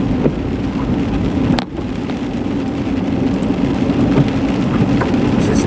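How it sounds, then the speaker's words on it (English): Rain patters on a car driving through Alpine Village in Monroeville, Pennsylvania, a loud steady wash of drops and road hiss with a brief dip partway through. "I apologize, it's raining here"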